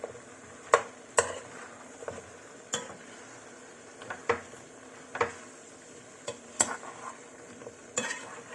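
Bottle gourd and sardines are stirred in a pan as a utensil scrapes and taps against the metal in an irregular rhythm. Faint sizzling runs underneath, close up and with no talk.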